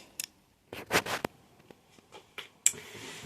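Scissors snipping through fixed packaging during an unboxing, heard as a few short dry cuts and scraping rustles close by, with quiet gaps between them and no talking.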